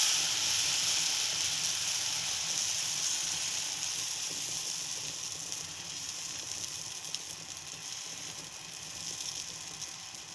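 Black urad dal adai batter sizzles steadily on a hot iron tawa, a continuous close hiss with no talking.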